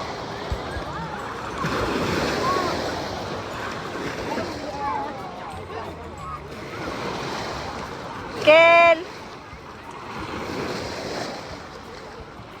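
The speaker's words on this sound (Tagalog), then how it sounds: "Ang lakas na ng alon!" Ocean waves crash on a beach in surges that swell and recede, with wind buffeting the microphone and people calling out over the surf.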